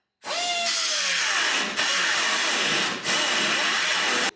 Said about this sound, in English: This here is an extended cutoff wheel that makes getting bolts out of tight places easy.